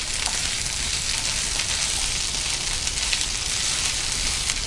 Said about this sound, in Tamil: இப்போ இஞ்சி பூண்டு பேஸ்ட் ஆட் பண்ணிக்கலாம். நல்லா பச்சை வாசம் போகிற வரைக்கும் வதக்கிக்கலாம்.